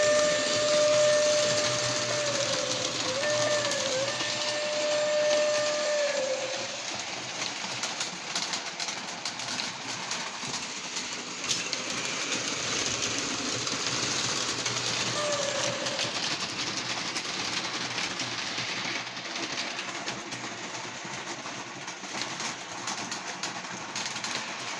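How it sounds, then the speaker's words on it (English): A Lionel Lionchief UP Steamin' Flyer toy train runs with its chuffing and air compressor sounds off, giving a continuous close rolling whir and rattle of wheels on track, steady throughout. "I always like to hear it without the sound because I like the clickety-clack"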